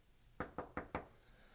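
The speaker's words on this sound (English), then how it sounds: "let's take a knock on the door" Four evenly spaced knocks on a door, quick and distinct against a faint background hush.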